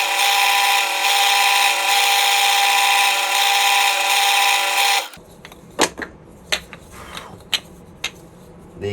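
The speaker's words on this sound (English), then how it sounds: "I'll use this drill bit, which is the size of them, to drill wee holes into each of these" A power drill with a small bit bores wee holes into small wood pieces for a mini garden pergola, a loud steady high whine lasting about five seconds. Sharp knocks and handling clatter follow.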